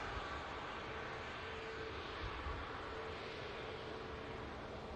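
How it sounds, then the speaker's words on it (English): An Airbus A380 climbs out after takeoff, its engines a steady, distant broadband roar that holds evenly throughout with no talking. "hopefully we can track the 380 once again as it continues to climb out from the airfield"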